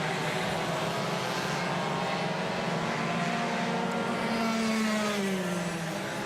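Club100 heavyweight sprint racing karts at Red Lodge pass in a continuous buzzing engine drone. The pitch sweeps and shifts as several karts go by close together, loud and steady throughout with no voices.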